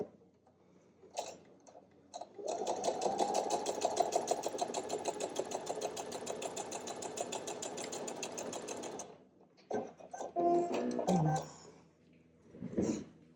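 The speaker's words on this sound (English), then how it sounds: "I'm just going to go ahead and sew these on, and then we'll sew it to the bigger piece." A sewing machine stitches improv quilt fabric pieces in a long steady run of rapid rhythmic needle clatter lasting several seconds, then stops. Shorter bursts and handling noises of fabric follow, all close.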